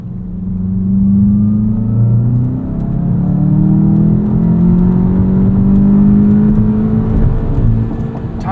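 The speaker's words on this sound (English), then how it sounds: "And our engine sound gets significantly louder." A 2022 Volkswagen Jetta GLI with a six-speed manual, in sport mode, revs hard from inside the cabin, rising and falling through the gears in a loud, continuous engine drone with no talking.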